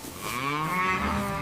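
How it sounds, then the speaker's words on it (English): A cartoon cow lets out a single loud, drawn-out moo with a rising and falling tone, heard close and alone without any talking. "let's go feed our hungry cows."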